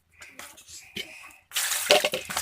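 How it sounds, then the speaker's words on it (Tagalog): Water from a water pump splashes into a dirty container as it is washed, starting as intermittent close splashes and then turning into a louder, steady gush of running water for the last second. "Hugasan din natin itong sisidlan kasi madumi na dito."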